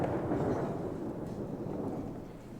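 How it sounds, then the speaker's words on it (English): A stage thunderstorm effect for a theatre play rumbles low and heavy, loudest at the opening and then easing into a rolling, sustained grumble that fades gradually. "there was a storm to the sky like no other"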